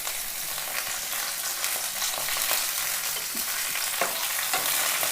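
Shallots, mustard seeds and curry leaves frying in hot oil for a Kerala drumstick-leaf and lentil curry, a steady close sizzle with occasional stirring scrapes and small pops, no voices.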